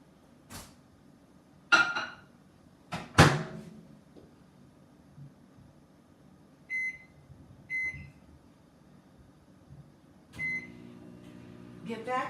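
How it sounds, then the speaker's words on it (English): A microwave oven melting butter in a dish: a door thumps shut, keypad beeps sound in short pairs, a low running hum follows, and another beep and clunk come near the end. "get it in the microwave so it can be melting."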